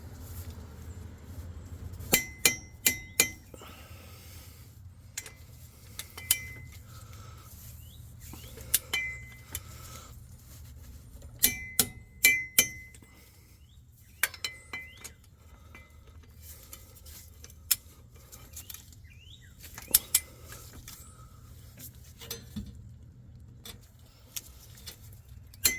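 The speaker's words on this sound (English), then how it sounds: "I was able to torque all 4 of these to 85 foot-pounds without having to move it" A torque wrench tightens the front drive shaft bolts on a 2002-2008 Ram 1500 4x4, giving repeated sharp metallic clicks and clinks in short clusters over a quiet background.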